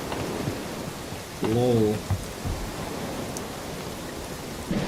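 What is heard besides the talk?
rain in a video game zone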